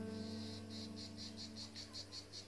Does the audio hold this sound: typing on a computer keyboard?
no